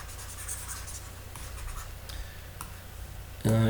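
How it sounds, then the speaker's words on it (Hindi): A pen scratches steadily across a board as a maths problem is written out, a continuous close scratching that ends in a sudden loud thump. "एक मिनट मैं इसे लिख के बताता हूँ आपको"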